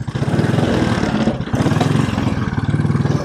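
A 1957 Royal Enfield Bullet 500 single-cylinder motorcycle engine thumps in a steady loud pulse, briefly dipping mid-way before resuming its rhythmic chugging close by.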